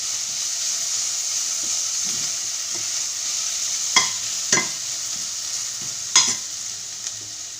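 Something frying in a pan, a steady close hiss of sizzling oil broken by a few sharp utensil knocks and scrapes, with no talk.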